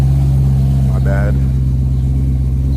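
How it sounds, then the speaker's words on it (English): A BMW E92 M3 with an S65 engine idles roughly and loudly on a cold start with an exhaust leak, a steady low rumble and a brief higher whine midway, the exhaust sounding uneven and throaty. "It's just a exhaust leak, cold start."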